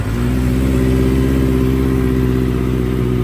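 Kawasaki ZX25R four-cylinder sport bike engine idling steadily up close, a loud, even, high-pitched buzz with strong stacked harmonics and no voices.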